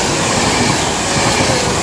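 A train rushes through Nuneaton station on the West Coast Main Line, a brief, loud, steady roar of wheels and rails close by.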